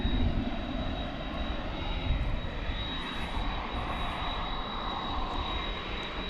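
An American Airlines jet departs DFW airport at night, its engine roar loud and steady with a faint high whine running throughout.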